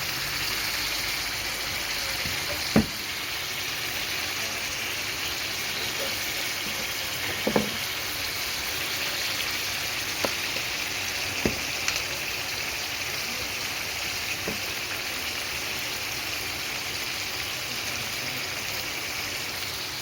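Chicken roasts in a pan, giving a continuous soft sizzle with a few scattered clicks and scrapes of stirring, steady and fairly quiet.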